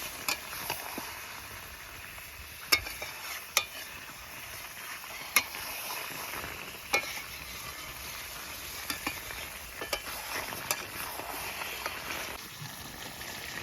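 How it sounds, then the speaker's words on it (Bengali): Star fruit sweet-sour pickle with white mustard bubbles and sizzles in a pan, a steady soft crackle broken by scattered sharp pops and a few stirring clinks, close and alone. "কিরকম ফুটছে টকবক টকবক করে।"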